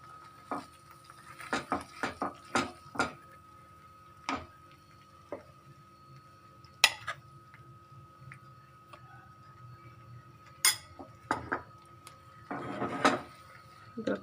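A spoon stirs flour in a cooking pan, giving sparse, irregular clicks and knocks against the metal over a quiet background.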